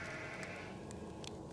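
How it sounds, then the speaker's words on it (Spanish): Many sheep bleating together near a house in the countryside at night, a dense overlapping chorus of bleats sustained throughout at moderate level with no talk. "decenas de ovejas gritando al unísono"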